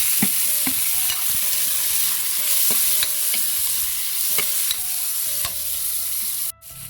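Ginger, garlic, onion and tomato sauté in hot oil with a constant bright sizzle, punctuated by regular scraping strokes and clinks of a spatula stirring the pan, close up and without voices.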